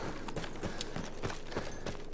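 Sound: horse hooves in the video game Battlefield 1

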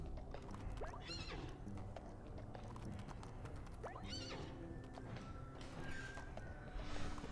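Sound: horse neighing and hooves in video game What The Golf

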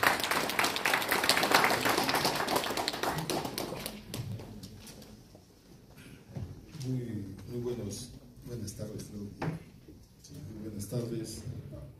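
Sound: applause welcoming a speaker

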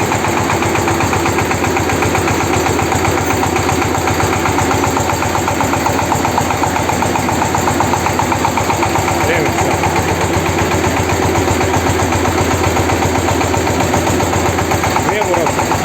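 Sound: ZIL 130 truck engine idling with repaired power steering pump

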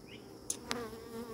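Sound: honey bees buzzing on frames

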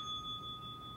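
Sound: bell being hit

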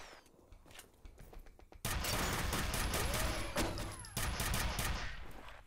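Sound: machine gun fire in F.E.A.R video game

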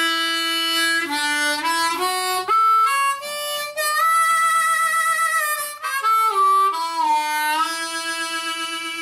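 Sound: harmonica playing

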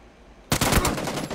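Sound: SCAR rifle gunfire in video game Warzone

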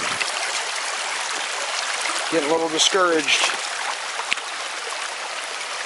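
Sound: flowing creek water

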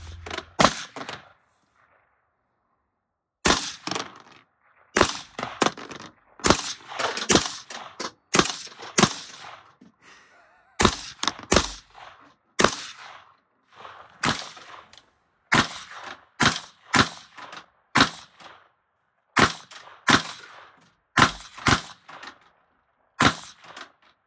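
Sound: firearms being shot at a range

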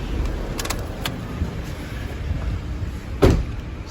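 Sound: car remote central locking

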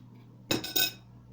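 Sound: chopping sausage thinly with a knife

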